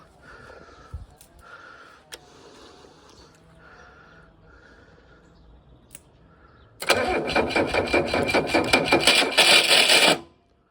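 A Mercedes OM617 3.0 diesel engine, with glow plugs heated and diesel and battery hooked up, stays quiet apart from faint rustling, then suddenly cranks and fires into a loud, rough, rattling run for about three seconds before cutting off.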